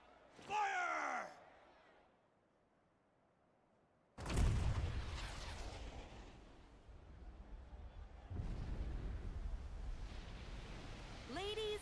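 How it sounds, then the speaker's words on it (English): Junon's giant cannon in the video game Final Fantasy VII Rebirth fires with a sudden, heavy boom that rolls into a long rumbling roar and a sustained whoosh, with bursts of game voices before and after the blast. "with a single blast of Junon's famous cannon, Rufus Shinra has announced his arrival"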